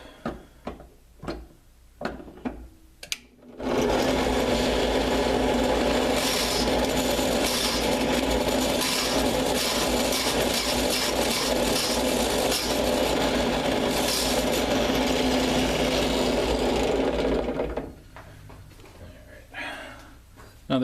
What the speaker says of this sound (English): So this is the 1/4 inch drill bit going into the drill press here.